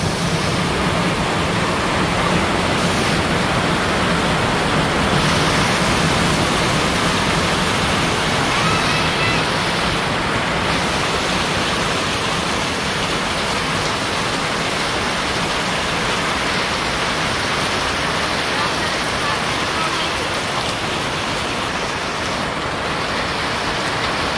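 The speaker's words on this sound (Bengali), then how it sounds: "একটু বৃষ্টি কমছে, তো এলাকা আশ আছে, আশ তো ছাড়তে হইব, অনেক বৃষ্টি।" Heavy rain pours down over a Bangladeshi village as a dense, unbroken roar that stays loud and even throughout.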